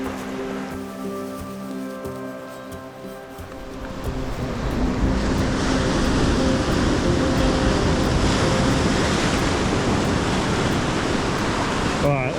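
Ocean surf washes against a rocky coast in a steady broadband roar that swells louder partway through and stays full, with a few faint tonal sounds early on.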